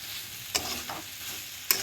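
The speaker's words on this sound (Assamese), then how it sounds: "ভাজি থাকোঁতে আলুখিনি দি দিম" Soya chunks frying in oil in a pan, with potatoes going in: a continuous sizzle broken by two sharp stirring knocks, with no voices.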